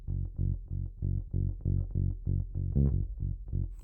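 Dry electric bass with no amp simulation plays a steady run of evenly spaced, rounded low notes, moderately quiet and alone.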